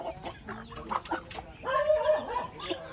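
Hen clucking in short bursts amid background chatter and rustling, with a louder stretch of clucks partway through.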